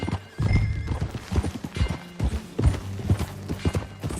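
Horse hooves clop in a quick trotting rhythm in Red Dead Redemption 2, close and clear, with scattered thuds and a brief whinny-like sound mixed in.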